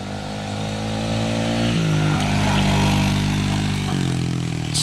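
A Sunl SLA 90cc Chinese four-wheeler's small engine running close by, a steady buzzing idle that rises in revs around two seconds and shifts again near four seconds.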